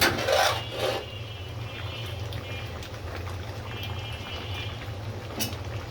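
Fried onions are stirred in a cooking pot with a spoon that rasps and scrapes steadily against the metal over a low background hum. A louder scrape comes at the start.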